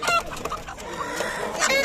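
A crowd of chickens clucking and squawking steadily close by at a poultry market in Kırıkkale, Turkey, with a rooster's crow mixed in, no talking.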